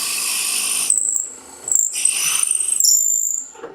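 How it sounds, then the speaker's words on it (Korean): A drill bores a hole into a wooden knife handle, giving a high, piercing whine in several short bursts that rise and stop, close and loud. "나무 손잡이에도 구멍을 뚫어줍니다"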